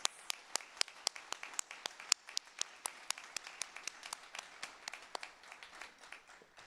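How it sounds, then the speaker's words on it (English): A small audience at a college of education teacher pinning ceremony clapping, sparse distinct handclaps in an uneven rhythm, fairly faint and thinning toward the end. "give yourselves one more really robust round of applause"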